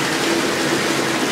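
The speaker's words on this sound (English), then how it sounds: "Shower wand, ready. Jets, ready." Shower wand spraying water in a bathtub, a steady close hiss of spray with no voices.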